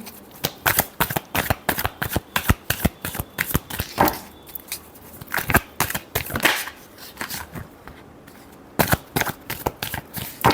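Tarot cards are shuffled by hand in quick bursts of papery flicks and riffles, close and crisp, pausing briefly midway before resuming, with no speech.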